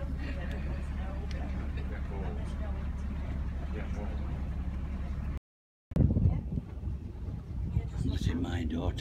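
A houseboat engine drones steadily on a Kerala backwater, low and constant with wind buffeting the microphone, briefly cut off mid-clip, then returning rougher with nearby voices talking over it.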